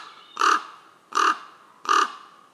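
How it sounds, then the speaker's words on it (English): Ravens give three evenly spaced hoarse croaks, each short and resonant, moderately close in an otherwise quiet outdoor setting. "and ravens. There's loads of them around."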